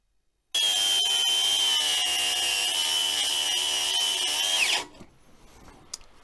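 An angle grinder starts abruptly with a loud, high-pitched whine, runs steadily for several seconds, then cuts out and spins down.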